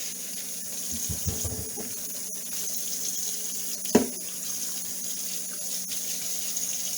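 Potatoes are rinsed under a kitchen tap, water running steadily and close throughout, with a couple of brief clunks in the sink.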